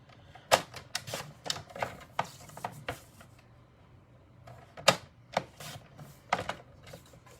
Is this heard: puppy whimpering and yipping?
no